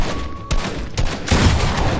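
Gunfire from the video game Fortnite comes as a few sharp, loud shots and bursts in quick succession over a busy game soundscape, with no talking.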